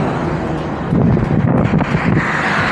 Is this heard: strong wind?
yes